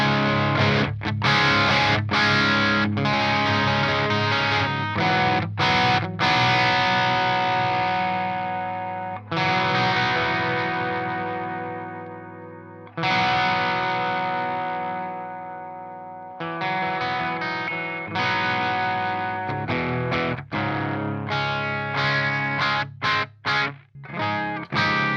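Crunchy, distorted electric guitar through a Victory Kraken amp, played loud and close with no talking: rhythmic chugging chords and low palm-muted riffs, broken by short stops and sustained ringing chords.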